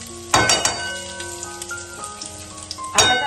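Ginger fries in hot oil as the base for dal. Two sharp sizzling bursts open and close the clip, with a softer crackle and faint tonal hum in between.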